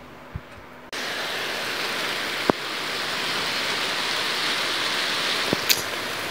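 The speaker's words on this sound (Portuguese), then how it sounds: "tá chovendo, chovendo, chovendo, chovendo, chovendo" Heavy rain suddenly swells into a loud, even roar of falling drops, with a few sharp clicks and knocks nearby.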